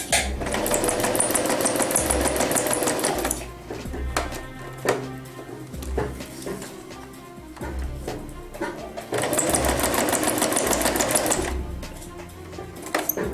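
A sewing machine stitches paper toward a corner in two long, fast, rattling runs. Between them come a pause with clicks and handling noises, and a short stop-start stretch.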